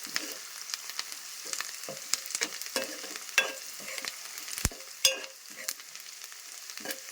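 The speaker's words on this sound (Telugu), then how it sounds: "ఇప్పుడైతే ఆయిల్ వేసేసి తాలింపు గింజలను ఆనియన్స్ అయితే వేసేసాను" Onions and tempering seeds fry in oil with a steady close sizzle, punctuated by crackles, pops and occasional stirring scrapes, no voices.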